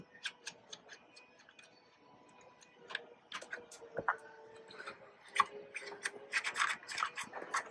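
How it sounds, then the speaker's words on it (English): Two 8mm bolts loosened by hand on a Tesla Model Y taillight, a quiet series of small ticking, clicking ratchet and metal rubbing sounds, close and intermittent with no speech. "There's just two 8mm bolts here. Very simple. Just loosen them up"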